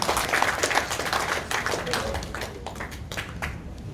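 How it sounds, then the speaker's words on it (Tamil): Dense, steady clapping from a large audience at a book launch, loud at first and easing slightly toward the end, with no voices over it. "பலத்த கைத்தட்டல்கள்."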